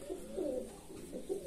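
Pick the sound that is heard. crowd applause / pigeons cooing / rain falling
pigeons cooing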